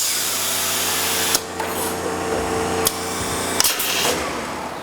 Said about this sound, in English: you're going to run your 6-shooter inside the pocket and actuate it